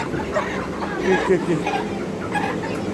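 A hen clucking softly in a small flock, with short scattered clucks mixed into close background chatter and people talking.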